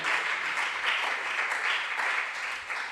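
A crowd at a school science and maths quiz contest applauding steadily for a few seconds, dense clapping with no pauses, fairly close and even in loudness.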